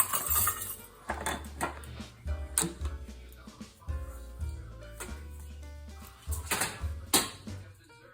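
A metal pan clanks and scrapes as it is carried over and set down in a home kitchen, with several sharp clinks of cookware and utensils in irregular bursts, fairly close.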